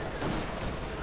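Gunfire and explosions fill a World War II real-time strategy battle in Company of Heroes 2 as tanks engage. The dense, crackling barrage is loud and continuous, with no clear individual shots.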